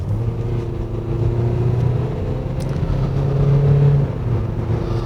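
A Chevrolet Orlando 1.6 diesel car accelerates hard with the pedal floored, its engine a low, steady droning rumble heard from inside the cabin, rising slightly in pitch as speed builds, with no talking.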